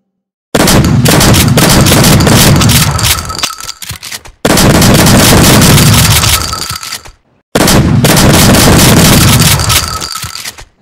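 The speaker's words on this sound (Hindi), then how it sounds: "चलिए शुरू करते हैं सिंगल शॉट से" Advanced alien shotgun in a video game fired in single-shot mode: three loud, separate blasts, each with a sharp crack and a booming tail that decays over a few seconds before the next shot.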